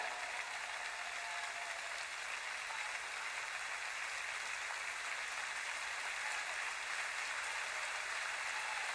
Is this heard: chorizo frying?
no